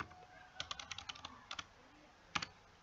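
Keys clatter on a computer keyboard as an amount is typed into Tally Prime accounting software: a quick run of sharp clicks, then a pair and one last press, close and quiet, with no talk.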